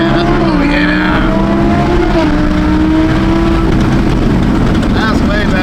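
A supercharged Audi R8 engine revs hard toward high rpm, a loud steady drone with rising harmonics under excited talk from people nearby.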